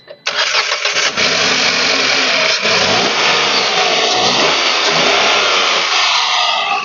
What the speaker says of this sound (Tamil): இப்போ இந்த இன்ஜினை ஸ்டார்ட் பண்ணி இன்ஜினோட நைஸாக லைவாக கேளுங்க